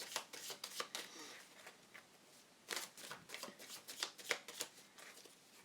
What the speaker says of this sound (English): I'm going to draw a couple of Chuck Spezzane's love cards.